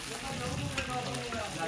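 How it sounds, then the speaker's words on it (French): Chicken pieces fry steadily in hot oil in a pan, a dense continuous sizzle and crackle, close and fairly loud, with no talk over it. "Tout à l'heure, tu vas le faire frire à sec."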